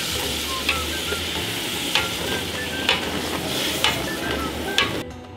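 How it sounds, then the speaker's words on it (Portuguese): Peach with white and red onions sizzles steadily in a pan, with a utensil scraping and stirring at a regular beat about once a second, close and moderately loud. "Eu tenho pêssego, cebola branca e cebola roxa, direto pra panela."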